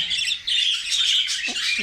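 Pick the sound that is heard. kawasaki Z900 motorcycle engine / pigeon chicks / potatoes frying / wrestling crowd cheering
pigeon chicks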